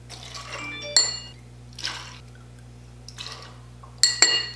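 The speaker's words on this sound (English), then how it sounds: "we're gonna start out by throwing some ice into this bad boy" Ice goes into a cocktail shaker for a martini in several separate drops, each a bright rattling clink with a brief hiss of tumbling cubes, close by, with quiet gaps between them.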